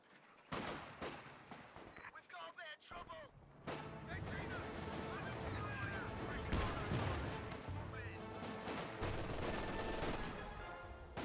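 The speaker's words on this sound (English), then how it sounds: "Grenadiers firing away" Gunfire from German Grenadier infantry squads in the World War II strategy game Company of Heroes 2, with dense overlapping rifle and machine-gun volleys and artillery-like blasts that run almost without pause and grow busier after a brief lull near the start.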